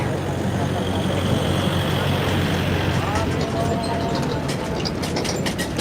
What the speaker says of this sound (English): It's a little tourist train here